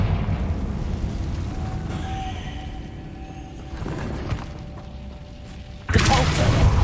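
Confringo spell blast in Hogwarts Legacy, a low rumbling boom with a sudden loud burst near the end, over continuous game background noise.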